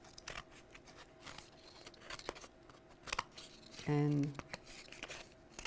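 Scissors snip through cardboard in small crunchy cuts under a soft speaking voice, with a short louder buzzy scrape near the middle.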